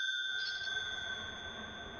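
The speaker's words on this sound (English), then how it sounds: "Bell?" A bell rings in the retro action role-playing game Ys II. It gives a short chime, then holds a steady, pure, high ringing tone over a quiet background.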